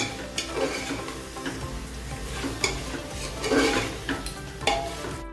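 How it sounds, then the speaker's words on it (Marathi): Marinated prawns coated with lemon juice, turmeric and salt sizzle in a hot pan as a spoon stirs them, scraping and clinking against the metal in close, irregular strokes over a steady frying hiss. "दोन मिनटं छान परतवून घेऊया"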